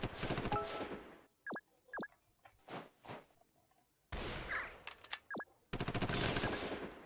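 Bursts of video-game gunfire, rapid automatic volleys at the start, middle and end with single sharp shots in between, loud and close with short quiet gaps.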